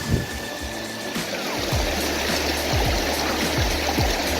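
Water from a stream on a hiking loop on Isla Navarino, Chile rushes and gurgles steadily at close range as a container is filled, with splashy bubbling pulses over a constant flow.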